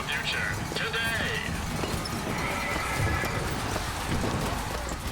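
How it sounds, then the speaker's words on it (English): Horses in the BioShock Infinite game world neigh and clip-clop amid a busy outdoor crowd ambience, with a whinny near the start over steady background bustle and voices. "I mean, they're looking at the horses,"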